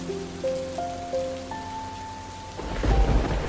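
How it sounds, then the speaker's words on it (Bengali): Heavy rain pours steadily outside with a rumble of thunder building toward the end, set under a few sustained tonal musical notes. "বাইরে তো অনেক বৃষ্টি হচ্ছে।"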